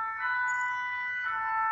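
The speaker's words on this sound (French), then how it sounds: "il y a des sirènes qui sont chez moi" Emergency vehicle sirens pass by outside a home, a steady wailing tone holding at moderate loudness throughout, heard alone with no talking.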